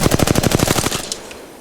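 Rapid automatic gunfire from a weapon in the video game Apex Legends, a loud burst of about a dozen evenly spaced shots over roughly a second that then trails off into a fading echo.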